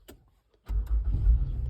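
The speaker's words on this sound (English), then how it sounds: "Let me start the vehicle." A car engine cranks and catches after a couple of faint clicks, then settles into a close, low rumbling idle.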